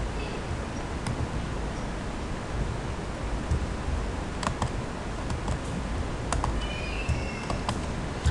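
Quick, light keystrokes on a computer keyboard while a website address is typed, with irregular clicks over a steady hiss of background noise.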